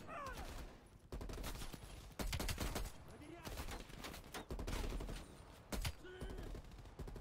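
Gunfire in the video game Call of Duty: Black Ops Cold War, rapid automatic bursts and overlapping shots crackling in clusters at close to middle distance, with loud stretches and brief lulls.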